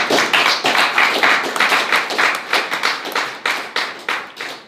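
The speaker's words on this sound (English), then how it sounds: "I want you to give your parents a round of applause." A graduation ceremony audience applauds the graduates' parents, a dense, loud round of clapping that swells in repeated waves and continues throughout with no talking.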